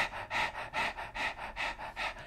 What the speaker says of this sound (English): And we're going to do the breath of fire is panting like a dog.